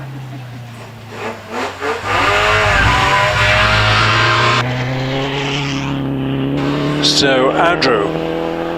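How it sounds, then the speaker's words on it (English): A vintage Meadows-powered, chain-drive Frazer Nash Super Sports races up Prescott Hill Climb, engine revving in short blips then holding a loud, steady roar with gear changes, while a commentator talks over it. "4443, Patrick Blakeney Edwards into Orchard, Frazer Nash Super Sports, lots of power, Meadows powered"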